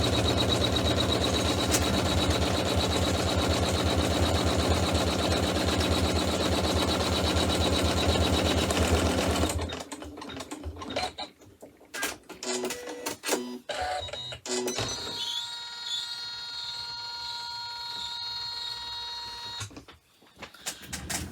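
An embroidery machine stitches the outline around the outside edge of a pouch bag piece, a dense continuous whirring chatter that stops abruptly about halfway, leaving scattered clicks, small mechanical tones and handling noises.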